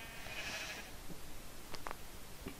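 Sheep bleating in a video game, a couple of short, sharp bleats near the end after a faint airy hiss, set against a steady low background.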